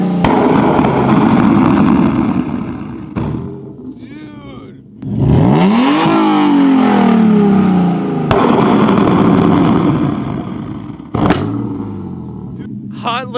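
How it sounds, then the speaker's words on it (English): Car with a dual exhaust flame kit revving hard, throaty engine roar broken by sharp popping bangs and backfire cracks, loud and close, with excited voices shouting over it. "Hot Licks flame kit for a dual exhaust"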